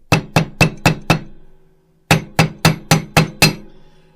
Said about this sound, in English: all this hammer tapping and anviling is only good because of the shape of the key